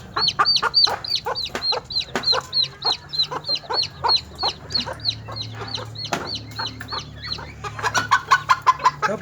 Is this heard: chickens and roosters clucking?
yes